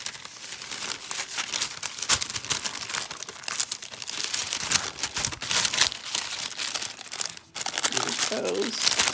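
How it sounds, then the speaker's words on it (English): Parchment paper crinkles and crumples in repeated rustling bursts as it is folded around seasoned turkey legs, loud and close, with no talking over it. "Parchment paper first."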